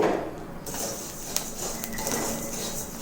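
Coriander seeds dry-roasting in a kadai, with close light crackling and scattered sharp ticks and clinks of stirring over a steady background hiss.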